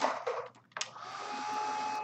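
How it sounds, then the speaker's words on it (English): An electric hair dryer blows over freshly painted canvas, a few short bursts of handling noise giving way to a steady, close, whirring rush of air that runs on alone. "So let's get the dryer out real quick."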